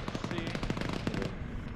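Heavy machine gun firing in a military shooter game, a rapid burst of loud, punchy shots in quick even rhythm lasting over a second before cutting off.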